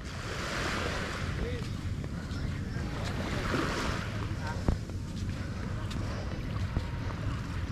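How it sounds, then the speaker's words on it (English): Ocean surf washes continuously on Baloy Long Beach, a broad steady roar of waves mixed with gusty wind buffeting the microphone, with no clear breaks or distinct crashes. "Taking a walk on the beach"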